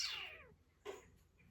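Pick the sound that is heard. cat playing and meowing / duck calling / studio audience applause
cat playing and meowing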